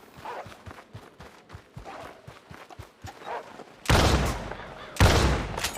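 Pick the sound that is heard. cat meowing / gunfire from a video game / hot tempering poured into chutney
gunfire from a video game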